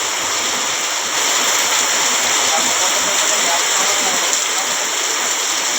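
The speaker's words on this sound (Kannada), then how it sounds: "ಮಳೆ ಬರಾಗತ್ತೈತಿ" Heavy rain pours down steadily as a dense, hissing wash of water that stays loud and unbroken throughout, with no voices on top.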